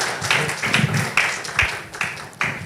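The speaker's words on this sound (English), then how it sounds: "please, can we give them a round of applause as they go back to their seats?" A small audience at an economic outlook roundtable claps for departing panel members, with sparse, distinct individual claps at an uneven rhythm rather than a full roar, fairly close and clear.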